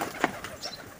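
Pigeons coo and flap close by in a brief burst, with a quick clatter of wings mixed into a soft coo.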